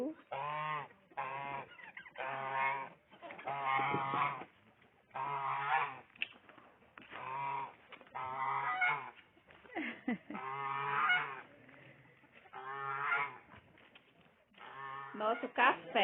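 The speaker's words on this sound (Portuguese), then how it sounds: "Peru." Turkeys call out on a country farm property, with repeated loud, harmonic honking bursts in steady succession, close by and mixed with some voices.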